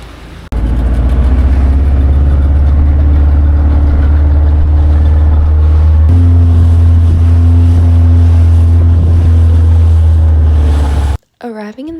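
A water taxi motorboat makes a loud, steady engine drone throughout the ride, with a small shift in pitch midway before it cuts off abruptly near the end.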